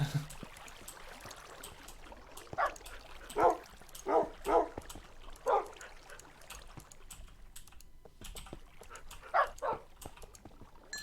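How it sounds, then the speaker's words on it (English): Puppies in the Minecraft video game let out short, high yips and whimpers: a cluster of about five between the third and sixth seconds, then a pair near the end, over a faint background. "We're getting some more puppies."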